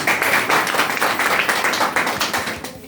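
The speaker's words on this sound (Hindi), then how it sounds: "मैं चाहूँगा उनके लिए जोरदार ताली हो" An audience claps loudly at a motivational business event, a dense stretch of rapid applause with distinct individual claps that thins out toward the end.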